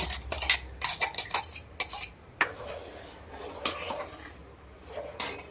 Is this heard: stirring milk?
yes